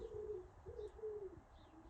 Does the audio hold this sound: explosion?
no